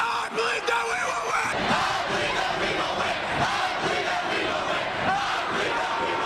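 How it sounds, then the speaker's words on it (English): A large high school cheering section in a gym roars a rhythmic pregame chant in unison, loud and sustained with shouting voices throughout. "Homestead High School has one of the top cheering sections in the state and may have the most convincing pregame guarantee in the nation"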